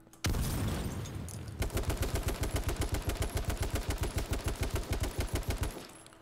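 Gunfire in the video game H1Z1: a loud blast, then a long rapid burst of automatic fire with evenly spaced shots that stops abruptly, with no talking.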